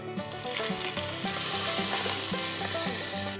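A kadhi yogurt curry with pakoras is mixed after tempering and coriander are added, giving a continuous bubbling, sizzling wash with rhythmic stirring strokes under a steady layer of music.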